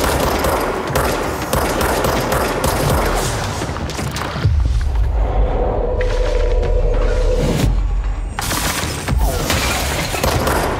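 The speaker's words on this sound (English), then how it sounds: "He's still firing at me?" Enemy gunfire in the video game Control: loud, dense, continuous bursts of shots and impacts, with one brief lull filled by a mechanical hum before the firing resumes.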